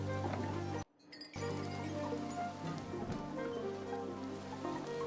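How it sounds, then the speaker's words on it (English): Steady rain in the City of Tears, a video game location, as a soft continuous hiss and patter with a brief dropout near the start, low and even throughout. "are you trying to get out of the rain?"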